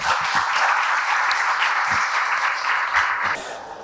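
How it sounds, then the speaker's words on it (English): Applause from the audience of a panel discussion on transparency in Namibia rises for the speakers, a fairly close, steady wash of clapping that eases slightly toward the close. "A round of applause for them, please."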